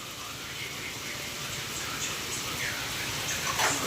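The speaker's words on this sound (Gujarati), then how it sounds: "એક ધારો વરસાદ પડે છે ને મોટા મોટા ફોરે" Steady, dense rain hissing continuously, with no pauses and no talking.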